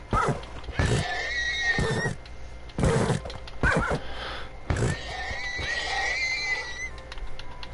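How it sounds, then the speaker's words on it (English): Horses neigh and whinny in a video game, several loud, shrill cries with pauses between them, close and clear with faint rumbling underneath. "I also like hearing the crying of dying horses."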